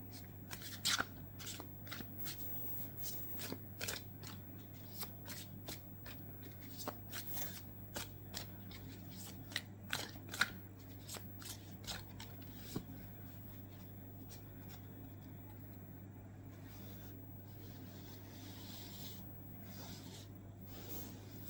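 Tarot cards are shuffled and drawn by hand, a long run of quick, crisp riffling clicks and soft slides over a low steady hum, close and quiet with no talking.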